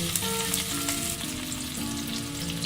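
Cashew nuts and sliced onions fry in hot oil in a pan, a dense, close, continuous sizzle with no talking over it.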